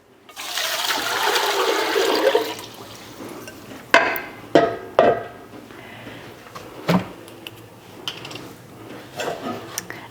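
Water poured for pickle brine, eight cups measured out, runs as a steady splashing stream for a few seconds, then gives way to a series of sharp knocks and clatters of handling close by.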